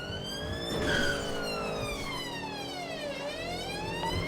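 A police car siren in the GTA video game, a loud wailing tone sweeping steadily up and down over a continuous engine and road rumble.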